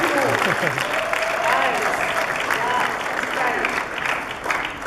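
Audience applause following a UNAIDS executive director's address on HIV/AIDS in Africa, a steady wash of clapping throughout with some voices audible underneath.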